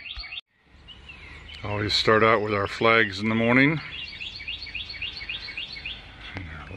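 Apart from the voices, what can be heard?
birds chirping in a yard in the morning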